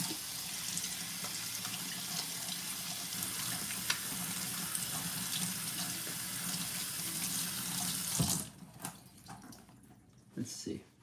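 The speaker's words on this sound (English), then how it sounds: "I'm gonna rinse off my lemons." Tap water runs steadily over lemons in a kitchen sink, a continuous rushing stream that cuts off near the end, followed by a few light clatters.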